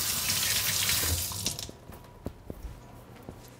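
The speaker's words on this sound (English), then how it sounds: "As a matter of fact, I'm gonna wash my hands." A kitchen tap runs for hand washing while preparing salt-crusted branzino, a loud steady gush that shuts off after about a second and a half, leaving faint drips and small splashes.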